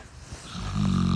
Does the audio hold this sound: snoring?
yes